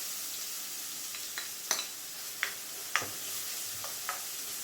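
Onions with a pinch of salt fry in a pan with a steady, fairly quiet hiss, broken by a few soft stirring clicks and scrapes.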